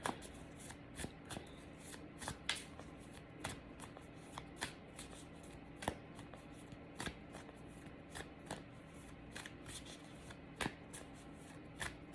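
Cards from the 42 Ideals of Ma'at oracle deck are shuffled for a reading, producing quiet, repeated riffling slaps in an uneven rhythm, close up and alone.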